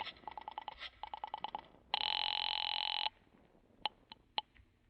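Late-1940s radio drama effect of a telephone being dialled or ringing through to a main gate: rapid clicking pulses, then a steady electronic tone for about a second, followed by a few sharp clicks.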